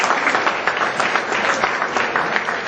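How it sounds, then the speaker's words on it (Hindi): Students at a motivational seminar in an IIT coaching academy clap for a group of boys called to the front, producing a steady, dense burst of applause that fills the room for about three seconds with no talk over it. "ताली बजाओ उनके लिए"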